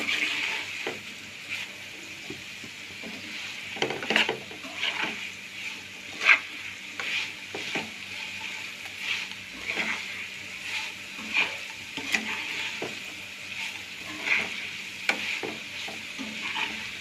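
Potatoes fry in a pan in a home kitchen, with a steady sizzle and repeated scraping stirs. The clicks and knocks of the utensil are close and clear, and no one speaks.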